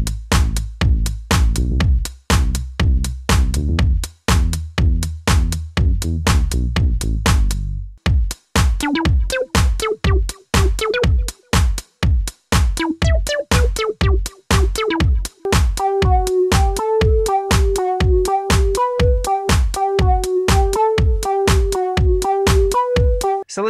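Roland Juno-106 synthesizer playing the three parts of a song: a loud, pulsing repeated bass line, then punchy rhythmic chords layered over a steady beat, with a bright, bouncing melodic line joining later, all continuous and alone.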